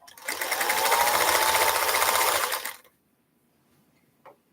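A sewing machine stitching a quilt runs at a steady fast whir for a couple of seconds, close and loud, then stops abruptly, leaving near silence with a faint click.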